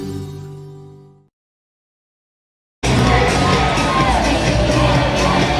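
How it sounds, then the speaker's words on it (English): An arena crowd at a girls 3A high school basketball championship at Veterans Memorial Coliseum erupts in loud sustained cheering and shouting, coming in abruptly after a brief silence that follows a fading music tail. "This crowd is riled up."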